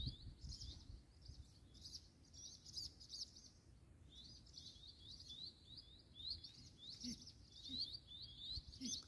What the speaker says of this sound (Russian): Посмотрите, как птицы поют